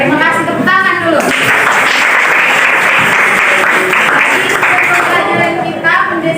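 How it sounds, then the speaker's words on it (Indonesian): A class claps together, a loud, sustained round of applause filling the room, with a voice speaking briefly at the start and again near the end. "tepuk tangan dulu"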